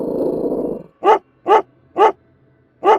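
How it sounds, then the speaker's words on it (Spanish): A dog in a horror story growls low and steadily for about a second, then gives four sharp, evenly spaced barks, loud and close, with no speech over it. "Ladró, gruñó, y le enseñó los dientes a Francisco"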